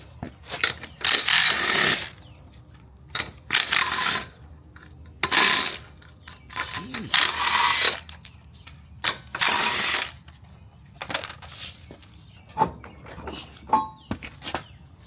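A ratchet works on a Kubota Z421 54-inch zero-turn mower while its tires are being removed, bursts of fast clicking close by, separated by pauses and small metallic clanks.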